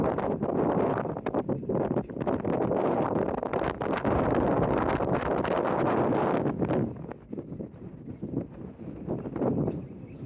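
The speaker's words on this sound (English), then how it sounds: "Windy here." Gusty wind buffets the microphone in a continuous rough roar, easing slightly toward the end.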